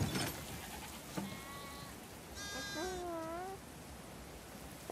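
Sheep bleating in The Last of Us Part II, set on a farm, with several drawn-out wavering bleats from more than one animal, close and clear over quiet background ambience and no talking.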